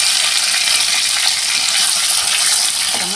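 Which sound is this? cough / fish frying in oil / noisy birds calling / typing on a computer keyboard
fish frying in oil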